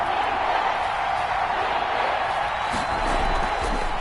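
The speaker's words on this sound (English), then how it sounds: "the crowd getting into it as we come up on a big third down" A football stadium crowd at a game roars in a dense, steady wash of cheering that stays loud and unbroken throughout, with a commentator's voice faintly underneath.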